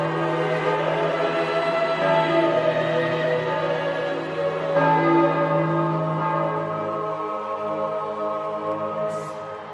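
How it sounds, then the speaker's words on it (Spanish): Church bells ringing out in Rome as a new Pope is announced, sustained resonant peals layered over one another and filling the air continuously, with no voices. "pronto comienzan a sonar las campanas y ya no hay dudas."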